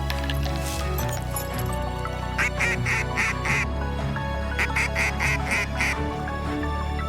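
Mallard ducks quack over a flooded field during a duck hunt in Québec, with repeated bursts of several loud, close quacks in quick series against a steady outdoor background.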